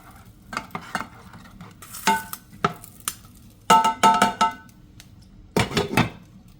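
A utensil scrapes and clatters around a pot as seasoning blend is stirred into the food, in short bursts separated by pauses, close and moderately loud.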